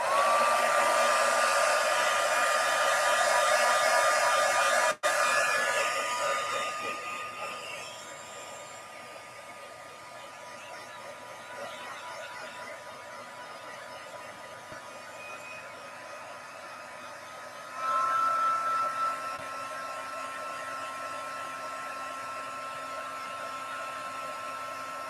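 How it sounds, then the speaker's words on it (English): A heat tool blows hot air onto craft material, a loud steady whooshing drone close by that drops to a quieter level partway through and then rises again briefly. "But I'm going to put heat on top of it this way."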